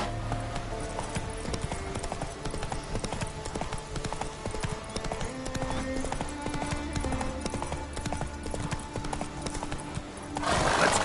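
A ridden horse's hooves clip-clop in a steady, even rhythm across the whole stretch, with a brief whinny-like sound and a louder burst near the end.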